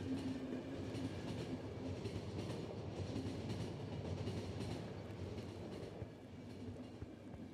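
A train rolls along rails in the video game The Final Station, a continuous low rumble with faint rhythmic clatter, heard quietly and steadily without voices.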